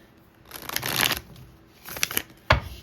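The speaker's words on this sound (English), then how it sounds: "We're going to go ahead and shuffle." A tarot card deck is shuffled nearby in two quick riffling bursts with a sharp tap at the end, crisp and fairly loud against a quiet room.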